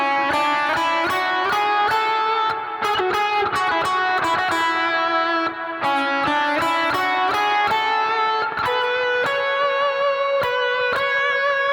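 A guitar phrase played with every note picked, each note starting with a sharp, even attack in a steady mechanical run that is loud and continuous with no talking.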